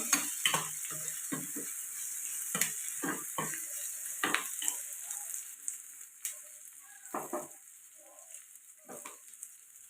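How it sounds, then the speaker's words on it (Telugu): Onions frying in a pan while being stirred, giving a soft hiss with a series of scraping clicks that grow sparser toward the end. "మధ్య మధ్యలో కలుపుకుంటూ బాగా ఫ్రై చేసుకోవాలండి ఆనియన్స్"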